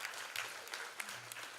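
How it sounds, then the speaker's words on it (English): Quiet, steady audience applause at a live event, a continuous patter of many hands heard from a distance throughout. "Please give a big round of applause"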